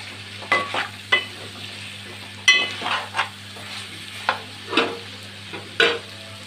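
Chicken pieces stirred into masala frying in a pan, with repeated scraping strokes of a spoon over a steady low sizzle, close and fairly loud, about eight distinct stirs.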